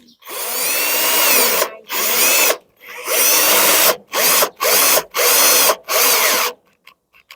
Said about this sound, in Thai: สว่านแบตหมด